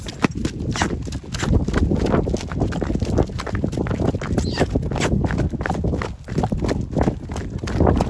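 Rapid, uneven hoofbeats clatter continuously and close by, suggesting several Ardennes draft horses, including a pregnant mare and a stallion, moving and trotting on hard ground.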